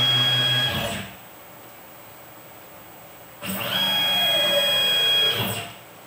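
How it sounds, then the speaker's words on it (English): Tormach CNC mill in two rapid jog moves, each a loud steady motor whine with a rising pitch sweep that cuts off sharply when a limit switch stops the axis, with a quiet pause between. "Limit switches still stopping and pointing at the end."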